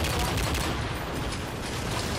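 Gunfire from a shooter video game, a quiet, steady rattle of rapid shots blending into a dense, noisy wash over the whole short stretch.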